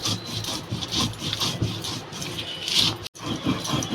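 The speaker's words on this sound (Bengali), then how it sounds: "বন্ধুরা এটা বেশ মিহি করে বেটে নেব সুন্দর করে" Mustard seed is ground to a fine paste on a stone, a rhythmic rasping scrub of repeated strokes close by, with a brief break near the end before it goes on.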